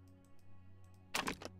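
Keyboard typing in the video game There Is No Game, a quick cluster of clicky keystrokes near the end of an otherwise quiet stretch with a low steady hum beneath.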